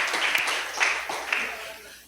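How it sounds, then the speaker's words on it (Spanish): Congregation applause at a church service, a dense spread of clapping with a few sharper bursts, fairly steady and then tapering off over about two seconds. "Den un poderoso aplauso y gloria a Dios,"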